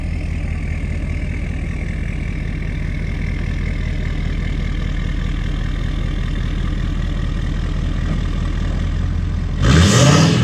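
A 2017-2019 Ford F250 diesel truck idles with a deep, steady rumble for several seconds, then a sudden louder burst of revving near the end.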